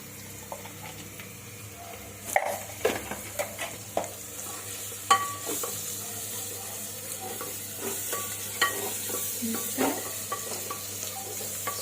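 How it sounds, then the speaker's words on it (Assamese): Onion frying in a pan with cumin powder gives a low, continuous sizzle, broken by repeated scraping stirs and clinks of a utensil, fairly close and without talk. "আপোনালোকে ধুনীয়াকৈ পিঁয়াজটো ভাজি থাকিব"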